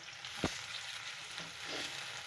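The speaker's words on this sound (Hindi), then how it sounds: "अब ये लहसुन अदरक का पेस्ट डाल रही हूँ, इसको इस तरीके से मिलाएंगे" Steady low sizzle of garlic ginger paste frying in hot oil, with a sharp tap of a utensil and faint scraping as it is stirred.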